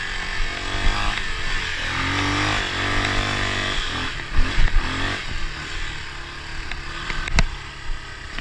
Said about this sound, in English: his bike is a dual sport also, and geared for the street and had street tires on it